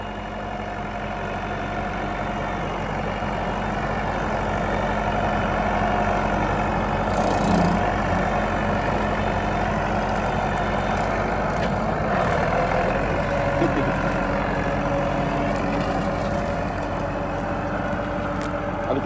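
A Massey Ferguson 290 tractor engine labors while clearing brush on a steep slope, a loud, steady diesel drone with small bumps and knocks, continuous for the whole stretch with no talking.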